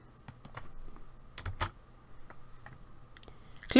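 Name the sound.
typing on a computer keyboard, pressing the enter key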